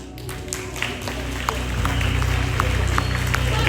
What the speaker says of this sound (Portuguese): Recebam os nossos aplausos.